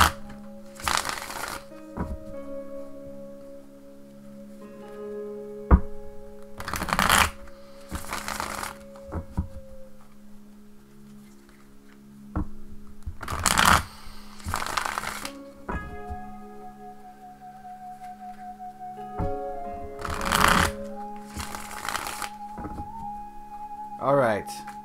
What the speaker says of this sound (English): give me a moment to shuffle my Thelema Tarot and ask the tarot cards the question